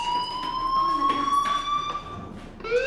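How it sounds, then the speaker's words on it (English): A fire alarm in the video game Life is Strange rings steadily, its sustained shrill electronic tone running unbroken under faint background sound throughout. "Hey, do you hear that fire alarm?"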